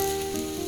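Onion pakoda frying in hot oil as it is turned over, a steady close sizzle with a faint bubbling crackle heard alone.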